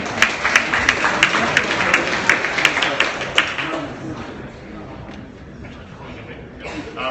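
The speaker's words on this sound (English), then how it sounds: "but please big round of applause for George." An audience at a startup pitch night applauds in a burst of clapping that builds and then fades over a few seconds, with sharp rhythmic claps along the way.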